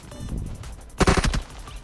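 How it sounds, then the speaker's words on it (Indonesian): A quick burst of automatic gunfire from a teammate in a shooter video game, several sharp close shots packed into a fraction of a second after a quiet lead-in. "Siapa tuh nembak gue? Temen nembak sendiri."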